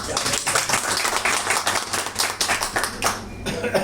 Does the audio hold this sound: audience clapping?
yes